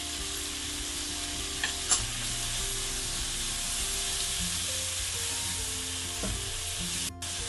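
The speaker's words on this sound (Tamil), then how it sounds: "இப்போ இந்த தக்காளி பழம் கொஞ்சம் குயிக்காக வதங்குறதுக்காக கொஞ்சம் உப்பு போடுறேன்" Tomatoes sautéing with salt in a pan for a mushroom gravy, a steady soft sizzle with occasional stirring scrapes and a few brief clinks, close and continuous with no talking.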